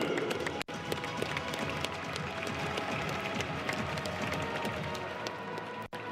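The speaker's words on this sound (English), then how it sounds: "your applause, please, ladies and gentlemen" Audience applause and cheering at the Hankook 24H Dubai 2015 endurance race podium, honoring class finishers; a dense, steady wash of clapping from a large crowd, fairly close and continuous throughout.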